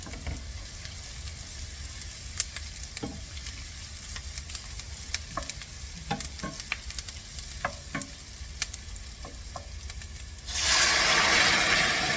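Garlic fries with a steady close sizzle in a pan, stirred with scattered scrapes and taps, then a sudden louder hiss rises near the end.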